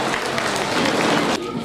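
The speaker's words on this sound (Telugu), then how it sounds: "అందరు క్లాప్స్ క్లాప్స్." A crowd applauds a young girl's Sankranti rangoli drawn in front of a house in Husnabad: a brief burst of dense, close clapping that cuts off abruptly near the end.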